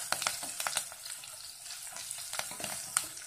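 Prawns frying with curry leaves in a pan, a steady close hiss and crackle of hot oil with sharp pops and spatters scattered throughout, no voices.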